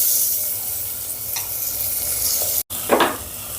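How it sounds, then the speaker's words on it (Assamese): Bora sticky rice sizzles loudly in hot ghee with raisins and cashews, as a spoon scrapes and stirs it through the pan in a few distinct passes. "গোটেইখিনি চাউল মই ঘিউতে দি দিলোঁ।"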